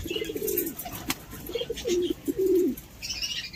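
Pigeons coo in low, throaty, repeated phrases close by, with a brief flutter of wings and faint chirps in the background.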